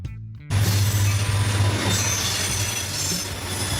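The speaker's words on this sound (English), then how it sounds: "Freight train. The strong man of the tracks." A freight train rolls along the tracks, its low steady rumble and wheel noise filling the scene loud and continuous after a brief quiet start, with a faint wheel squeal riding above.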